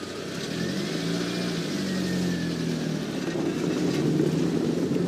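A car engine hums and rises as the vehicle pulls away on a residential street, a steady mid-level drone that swells toward the end, no voices.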